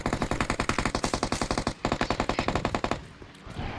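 Automatic gunfire in the Redzone zombie shooter game: a loud, steady rapid-fire stream of shots for about three seconds with one brief break, then quieter game ambience.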